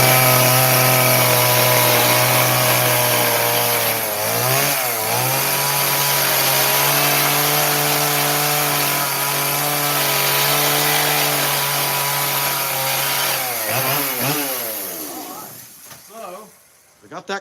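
A chainsaw cuts a sign from thin walnut, its engine droning loud and close. The pitch dips and rises as the load changes, and the saw winds down and cuts out with sputters at the end.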